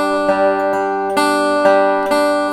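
A lap steel guitar plays a three-finger roll on strings four and three with open third and first strings: about six bright, ringing plucked notes in an even rolling rhythm that sustain and overlap, played solo and close.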